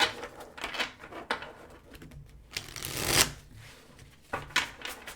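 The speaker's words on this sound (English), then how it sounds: "Do that one more shuffle." Tarot cards being shuffled by hand, a run of crisp riffling and flicking bursts with short pauses between them, close and fairly loud with no talking.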